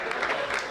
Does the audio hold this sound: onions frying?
no